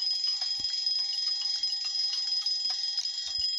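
A bell in Papa's Scooperia rings continuously, a bright, steady metallic trill with rapid repeated strikes, loud and close, with faint clicks underneath.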